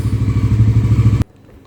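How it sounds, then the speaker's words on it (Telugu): A motorcycle engine on a cold start, loud and close, chugging in a fast steady idle rhythm for about a second before cutting off abruptly into near silence. "కోల్డ్ స్టార్ట్ చేయాలి ఆబ్వియస్లీ బైక్స్"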